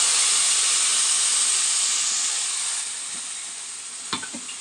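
Whole cinnamon, cardamom and clove hit hot oil in a pan with a loud, close, steady hiss that gradually eases, followed by a couple of light clinks.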